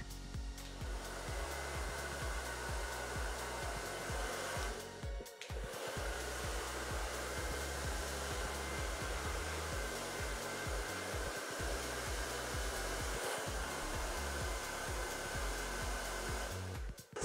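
A hair dryer runs steadily and close while blow-drying hair for a volume blowout, a loud continuous whooshing roar with one brief dip partway through and no talking.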